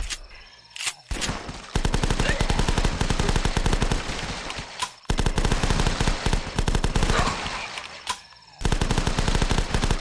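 Rapid automatic gunfire from the Flash game The Last Stand, loud sustained bursts of shots broken by brief pauses for reloading.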